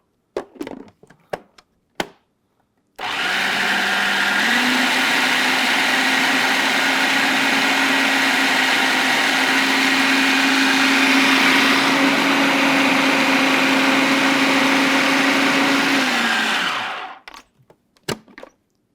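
A food processor whirs continuously as it blends falafel mixture, a loud steady motor drone that shifts pitch partway through before spinning down, with faint clicks and handling noises before and after.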